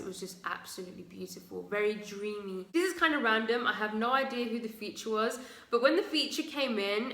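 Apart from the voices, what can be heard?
No distinct noise like a dog, phone or traffic.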